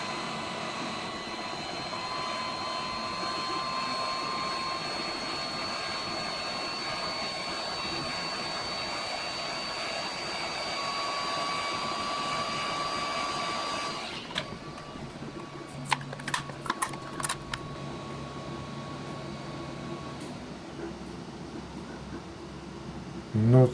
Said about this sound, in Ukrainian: в мене там на фоні працює 3D-принтер